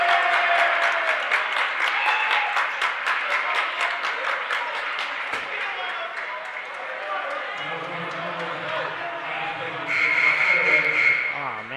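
Spectators in a high school boys' basketball gym clap in a fast, steady rhythm for several seconds as a loud, close cheer, then it fades under a commentator's voice.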